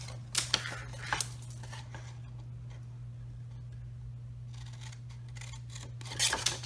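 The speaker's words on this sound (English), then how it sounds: "let's just snip up these other ones" Scissors snipping card tabs for a card kit, a few quiet close cuts at the start and end over a steady low hum.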